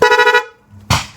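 Dual horn on a Yamaha YTX 125 motorcycle gives a loud, close, buzzy honk lasting under half a second, followed after a short gap by a second blast.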